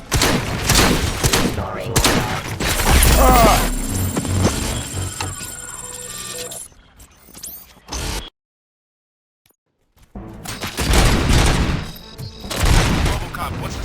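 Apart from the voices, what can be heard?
gunfire in RoboCop Rogue City video game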